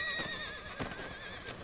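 A horse in the video game Red Dead Online gives a loud wavering neigh, then its hooves clop a few times, close and alone without talk.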